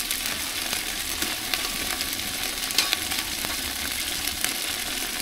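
Garlic and ginger fry hard with cumin paste for a chicken biryani, a dense steady sizzle close by with a few faint clinks of stirring and no voices.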